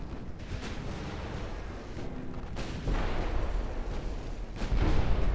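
A warship fires an armor piercing broadside in the naval game Ultimate Admiral Dreadnoughts, heavy booming gunfire rolling in several blasts over a continuous low rumble that swells louder toward the end.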